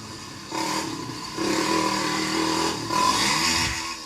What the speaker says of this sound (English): uploaded a GoPro video of himself riding his ATV on an unnamed trail